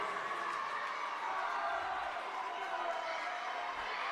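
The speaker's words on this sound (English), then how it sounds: "He's got a large crowd cheering for him at this point." A large crowd cheering for a young swimmer at a swim meet, a steady roar of voices and shouts sustained throughout, with speech mixed in.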